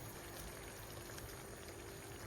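Water poured into a simmering pan of tomato sauce with meatballs, a steady soft splashing hiss that runs unbroken and faint throughout.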